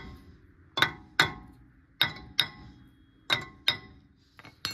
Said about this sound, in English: Now you're gonna grab your little hammer. Give her light taps around here.